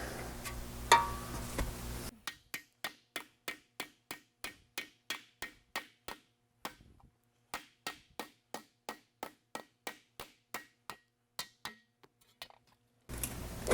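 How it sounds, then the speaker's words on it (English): Hammer blows shaping sheet metal with a kick shrinker into a Talbot-Lago body panel: a steady series of about thirty sharp, ringing strikes at an even rhythm, close and loud, with short pauses between some groups. "Every time you hit it, the hammer blow causes the arrangement to change."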